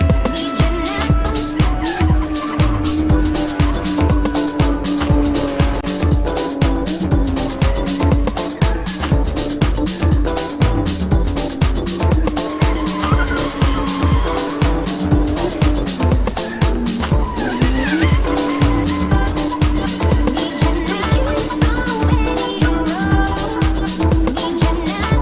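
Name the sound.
drift car skidding with squealing tires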